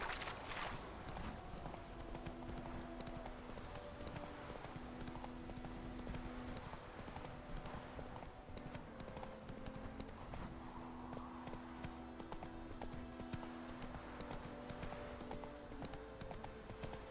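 Roach, Geralt's horse in The Witcher 3, trots along with a steady, rhythmic clip-clop of hooves beneath quiet game music, continuous and moderately close, with no talking.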